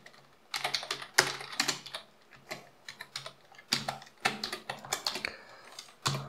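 Computer keyboard typing JavaScript code, heard as irregular bursts of close, crisp key clicks with short pauses between runs, alone with no voice.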